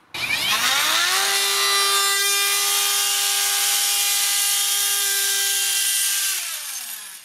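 An 18V Banggood cordless router with a 25 mm bit cuts 15 mm deep through pine. It spins up to a loud, steady high whine that holds for about six seconds, then winds down.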